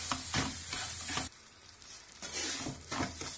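Semolina roasting in melted butter in a pan, with scraping stirring strokes and a soft sizzle that comes in rhythmic bursts, pausing briefly in the middle before resuming.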